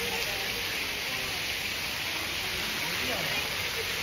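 Fountain water sprays steadily at the Saheliyon ki Bari garden in Udaipur, making a dense, even hiss like heavy rain that holds without break from start to end.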